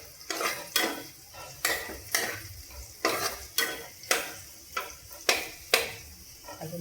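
A spoon stirs and scrapes aloo matar paneer upma through a hot frying pan in repeated rhythmic strokes, each clink and scrape standing out over a soft background sizzle.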